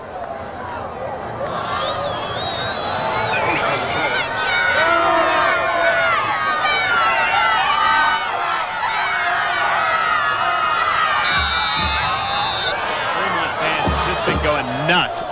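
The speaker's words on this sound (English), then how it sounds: "This is a really good crowd." Crowd noise at a 1995 high school football game between Skyline and Fremont in Utah: a steady roar of stadium crowd with whistles and scattered cheering, under continuous commentator talk.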